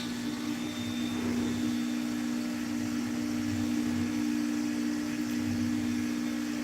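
A CNC router carves a wooden sign, its steady machine whine holding a constant pitch throughout, with a low rumbling hum that swells and fades as the bit moves.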